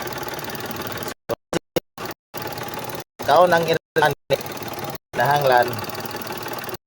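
A Mitsubishi Mirage engine runs at idle with its auxiliary cooling fan spinning during overheating repair work, a steady mechanical hum broken by gaps while someone talks over it.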